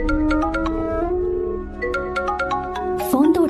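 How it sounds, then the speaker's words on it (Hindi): A phone ringtone plays as a repeating melodic electronic tune in a Hindi-dubbed South Indian film scene, steady and fairly loud, ending in a brief burst of other sound near the end. "फोन तो उठा ले।"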